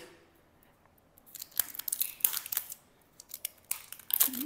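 Plastic wrap is handled and peeled on a KC Black Panther 3.0 double-blade hard tennis cricket bat, close crinkling and crackling bursts that start after a quiet second and continue irregularly.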